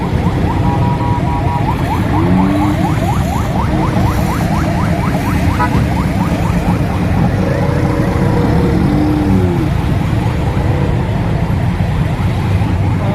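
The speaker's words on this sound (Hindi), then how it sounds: "तो यहाँ पर हो रहा है जनाब ट्रैफिक बहुत जाम।" Road traffic jam on the Karachi to Hyderabad highway heard from inside a rickshaw: a steady, loud engine drone and road rumble with passing vehicles and faint horn-like tones, no talking.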